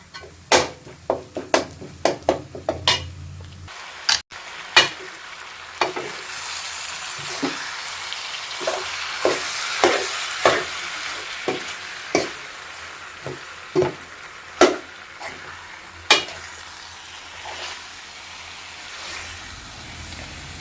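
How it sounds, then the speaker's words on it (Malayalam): Jackfruit is stirred into a sizzling chicken curry in a pan, with a steady hiss under repeated sharp scraping and clacking strokes of the spoon, loud and close, with no voices. "ചക്കയിട്ട് കൂട്ടി യോജിപ്പിക്കാം."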